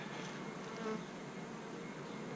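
Angry bees buzz around close by in a dense, steady drone with no talk.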